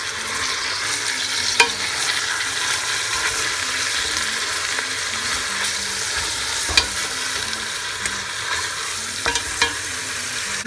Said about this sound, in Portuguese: Estou aqui refogando as minhas costelas, ou melhor, as costelas do boi.